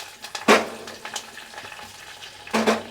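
Curry leaves hit hot tempering oil for tomato dal, giving two loud sputtering bursts of sizzle at the start and end, with a low steady frying crackle between them.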